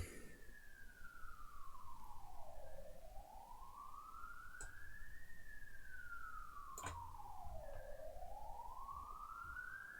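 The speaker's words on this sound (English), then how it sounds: "Freaking ambulance." An ambulance siren wails in slow rising and falling sweeps, faint and distant outside, with a couple of brief sharp knocks nearby.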